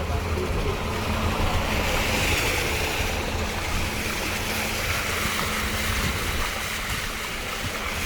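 Heavy-rain floodwater pours steadily across a street in Tasman, a constant broadband rushing of water with no pauses.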